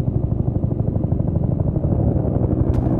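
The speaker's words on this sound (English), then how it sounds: "Is that the evac chopper?" Evacuation helicopter in the video game Peridium, a loud, steady rotor thump in a fast regular beat with a heavy engine roar, close and continuous, with no talking.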